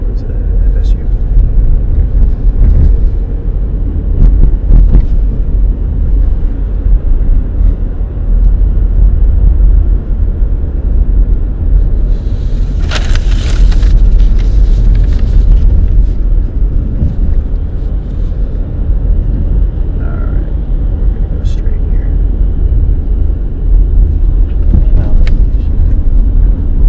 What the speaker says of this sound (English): Driving up the hill towards the FSU.